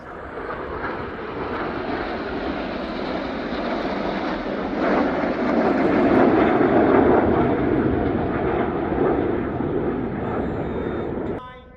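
Red Arrows display jets flying at the RIAT 2024 airshow produce a loud, sustained roar that swells toward the middle and then holds steady before cutting off.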